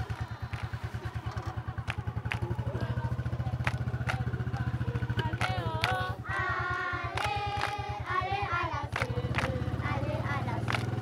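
A motorcycle engine putters with a fast, even chug close by on a ride to school in Cameroon, with clattering bumps and people talking over it.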